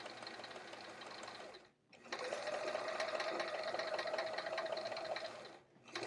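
Sewing machine stitching inside pockets of a travel art folio, a steady close whirring run of about five seconds with a brief pause near the start and another stop at the end, no talk.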